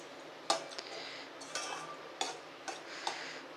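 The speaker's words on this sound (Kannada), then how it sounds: "ಚೆನ್ನಾಗಿ ಮಿಕ್ಸ್ ಮಾಡ್ಕೊಂಡ್ಬಿಡಿ" A utensil stirs boiled, curdled milk in a pan, giving a few sharp, spaced clinks and taps against the metal with soft scraping between them, close and fairly quiet.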